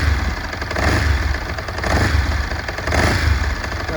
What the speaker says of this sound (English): engine's lovely and quiet on it, guys